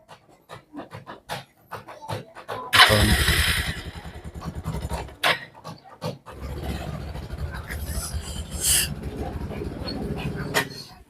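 A motorcycle rides back home along a village road, its low engine drone broken by gusts of wind buffeting, with a voice talking now and then over the ride.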